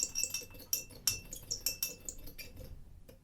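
A metal bar spoon crushes a sugar cube in a glass while an Old Fashioned cocktail is made: a quick run of faint, bright clinks and taps, close and irregular, with no talking.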